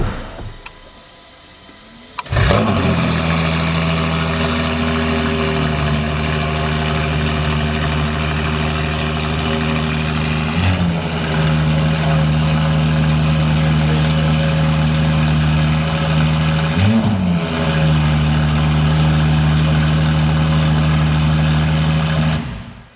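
A Novitec-tuned supercar engine fires up after near silence and settles into a loud, deep idle, with two sharp throttle blips briefly raising the note before it drops back to a steady rumble, no voices.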